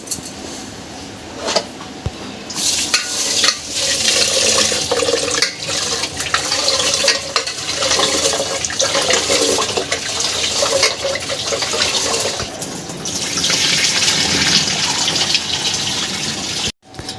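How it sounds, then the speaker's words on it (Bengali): Water pouring and sloshing as household rice is rinsed in a bowl for Bengali egg biryani, a steady, close, fairly loud gushing and splashing that runs almost continuously with brief pauses. "চালটা ধুয়ে নিচ্ছি"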